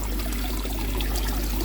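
Water flows steadily out of a pipe, giving a continuous rushing, trickling wash that is close and even for the whole short stretch, with no voices.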